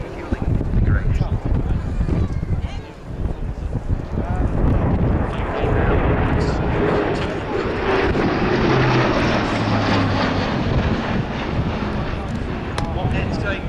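An Airbus A400M transport aircraft flies a slow pass at an air display, its propeller drone steady and loud throughout, with wind buffeting the microphone and a commentator talking over it.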